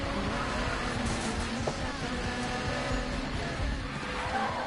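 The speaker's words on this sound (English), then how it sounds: "get some good drifts" A car drifting in a PS4 racing game, a continuous loud engine roar with squealing tires through the slide, steady and close throughout.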